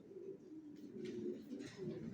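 Racer pigeons of a Johnson line coo in low, repeated rolling phrases, moderately near and fairly quiet, with no talking.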